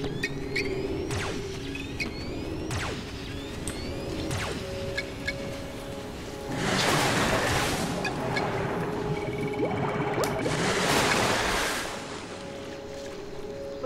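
A waterfall in the video game Serious Sam 2 makes a rushing, hissing wash that swells in two broad bursts over a steady background hum, with scattered sharp game effects and no talking.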